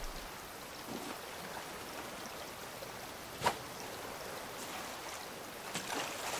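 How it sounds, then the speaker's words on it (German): Plants watered in the survival game Raft: a soft, steady rush of pouring water over faint ocean ambience, with a single small splash partway through. "So, Pflanzen gießen."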